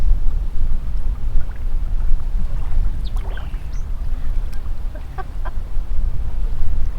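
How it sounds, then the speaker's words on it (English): A bird calls from trees in brushy Bahamas terrain, a few faint chirps and thin whistles standing out over loud, steady rumbling wind and boat noise. "Oh, and there's a bird. And you heard that."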